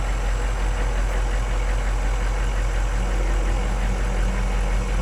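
A Humvee engine runs at barely any throttle while crawling off-road, a steady, close, low rumbling idle with a faint knocking texture that holds evenly throughout with no talking.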